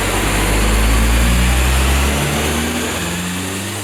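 A Mitsubishi Lancer Evo 5 fitted with an Evo 9 turbo drones loudly and steadily on a dyno during a power run, a heavy engine roar with rising harmonic tones that eases slightly toward the end.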